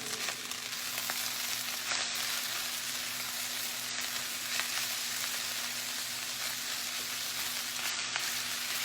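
Chicken fried rice with frozen vegetables, egg and meat frying in a pan, a steady close sizzle running throughout with no one speaking.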